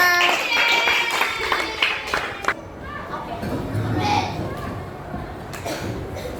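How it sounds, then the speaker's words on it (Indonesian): Schoolchildren in a classroom clap for group 4 after its presentation, a brief burst of scattered claps mixed with voices and chatter. "Baik, kita beri tepuk tangan untuk kelompok 4."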